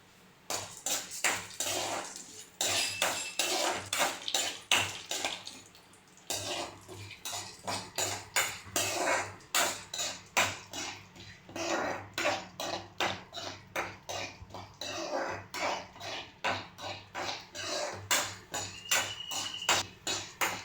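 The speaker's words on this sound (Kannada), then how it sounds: "ತೊಗರಿ ಬೇಳೆ ಕಲರ್ ಚೇಂಜ್ ಆಗುವಲ್ಲಿವರೆಗೆ ಹುರಿದುಕೊಂಡು ಬೇಕು." Toor dal roasting in oil in a pan for rasam, with a long run of close, sharp metallic scraping and clinking as the lentils are stirred, steady apart from a brief pause.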